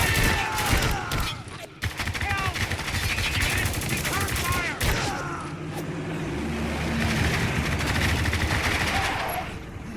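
Dense, continuous gunfire from the video game Spec Ops The Line, with rapid machine-gun bursts and scattered shots running loud throughout, mixed with explosions, engine rumble and voices shouting over the battle.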